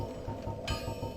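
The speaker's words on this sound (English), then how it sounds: "Anytime you hear that bell when you're online, it means somebody in the world just beat the boss." Online bell toll from the video game Dark Souls, a single bright metallic strike that rings on with a sustained, shimmering tail over a low steady game background.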